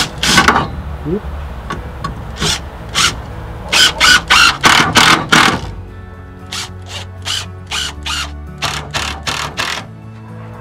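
A power driver sends one screw into wood during onion harvesting and drying in a no-dig garden, with a close, loud run of rapid ratcheting bursts; a voice briefly speaks near the start.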